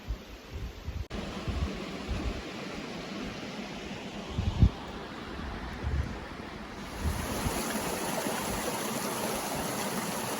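A small waterfall on the North River in Algonquin Park rushes steadily in a constant broadband roar, with some wind buffeting the microphone early on, then the flow grows louder and brighter.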